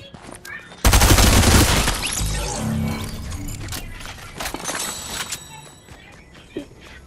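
Loud burst of rapid video game gunfire erupting suddenly, followed by scattered shots and footstep-like clatter fading down, with people talking over it.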